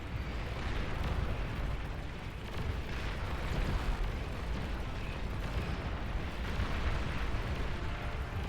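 A ship blowing up in a naval battle game, a sustained dense rumbling roar of explosions with crackling bursts, loud and continuous with no clear voices.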